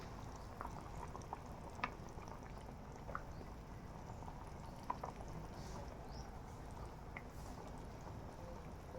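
Fish curry boiling in a pot, a faint, steady bubbling simmer with occasional small pops, continuous throughout with no talking.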